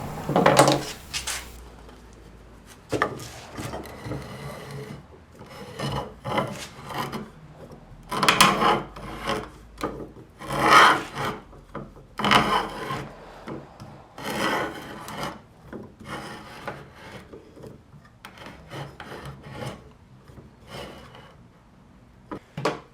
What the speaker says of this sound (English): I slowly advance the cutter to cut the threads inside the nut